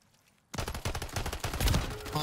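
Video game gunfire breaks out suddenly after a quiet moment, a rapid, loud burst of repeated shots that keeps going in a dense, ragged rhythm until the end.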